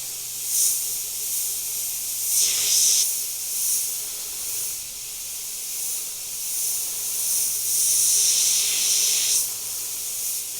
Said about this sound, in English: Just redraw it in with the airbrush